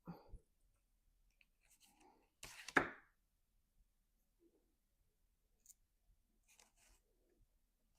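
Scissors cut through craft material, likely foam for stamp-making: one quick burst of snipping near the middle of an otherwise quiet stretch, with a few faint clicks and handling sounds around it.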